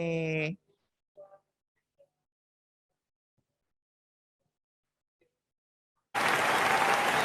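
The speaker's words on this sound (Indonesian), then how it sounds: "Oke, ada tepuk tangan." An audience at a government civil-service kick-off event breaks into loud, sustained applause after a near-silent pause, with a brief voice heard at the very start.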